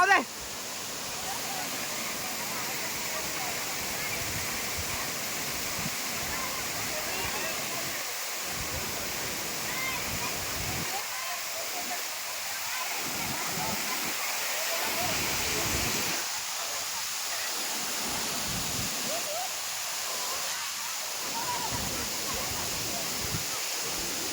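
Bekare waterfall pours steadily in the background, a broad, even hiss of rushing water at moderate distance, with no speech over it.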